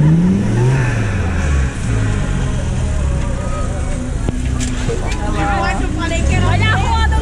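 A five-cylinder car engine revs on a street amid a lively crowd, its rising and falling pitch sweeping up and down over steady rumbling, with people talking and cheering close by.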